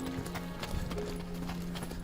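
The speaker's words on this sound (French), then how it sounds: "C'est un cheval qui est attachant" Horse hooves clip-clopping in a soft, uneven rhythm, fairly quiet and somewhat distant over a low background hum.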